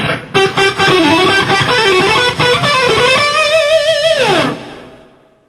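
Distorted electric guitar rips through a quick run of picked and pulled-off notes, ending in a downward slide that fades out.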